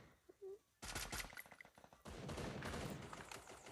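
Thompson submachine gun fire in a video game, loud dense bursts of rapid automatic shots starting after a brief quiet moment, then a second sustained volley continuing to the end.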